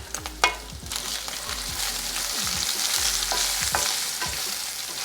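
Bacon sizzles steadily in a hot pan, a dense, loud crackling hiss with occasional sharp pops and utensil scrapes as it's stirred, close up and without talking.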